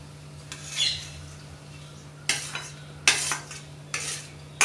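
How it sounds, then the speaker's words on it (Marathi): Roasted semolina being stirred into boiling water for upma, with a few separate bursts of scraping and swishing against the pot over steady low background hum. "भाजून घेतलेला रवा आपण यात सोडलेला आहे. हलवून घ्यायचा आहे व्यवस्थित."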